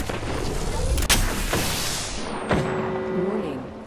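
Gunfire booms and cracks in a fast-paced Apex Legends match, heavy shots ringing out near the start and again midway over a dense battle backdrop, with in-game voice lines heard too.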